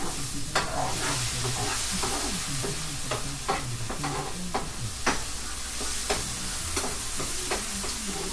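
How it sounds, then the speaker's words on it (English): Black beans stirred in a hot pan give a dense continuous sizzle with regular scraping strokes of the utensil, close and loud, and no voices. "Go ahead and stir it up a little bit. And I'm turning up the heat for the black beans for a reason."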